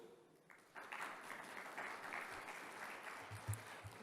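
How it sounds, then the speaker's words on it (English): An audience at a blockchain conference keynote in Dubai breaks into steady applause, a dense even clatter of clapping that swells and holds for a few seconds. "So if you could just give Robert a round of applause."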